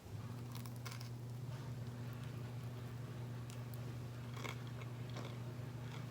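Biting and chewing crispy burnt tortilla pizza, with quiet close crunches and chews scattered over a steady low hum, faint and without talk.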